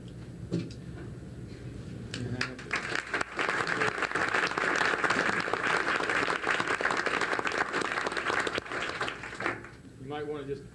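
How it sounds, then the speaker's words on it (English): Applause from the audience at a school board meeting swells into a sustained, moderately distant patter of many hands for several seconds, then fades, with a brief voice near the end. "You might want to just hold your applause till the end."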